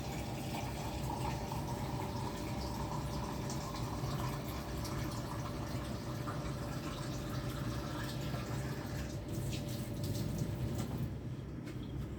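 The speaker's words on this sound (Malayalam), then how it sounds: "വെള്ളം ദേ നമ്മൾ ഇത്രയും വെള്ളം ഒഴിക്കുക" Water pours steadily into a vessel while puttu is being made, a continuous close trickling rush that lasts throughout with no voices.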